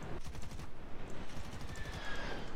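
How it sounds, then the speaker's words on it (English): Cannons of an F9F-5 Panther firing in the War Thunder video game, a rapid rattling burst of repeated shots heard faintly over engine noise. "Not at all a fan of these cannons"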